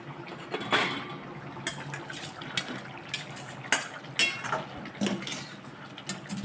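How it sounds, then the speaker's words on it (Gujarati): Boiled parwal (pointed gourd) tipped into a pot of boiling, bubbling gravy, with clinks of a metal spoon against the pan and a steady low simmer underneath, close and moderately loud. "હવે એની અંદર આપણે બધા જ પરવળ નાખી દઈશું"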